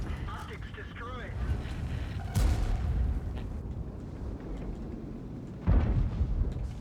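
An enemy tank's main gun fires in a tank combat game, two heavy booming shots a few seconds apart over a rumbling engine and wind-like background, with talk in between.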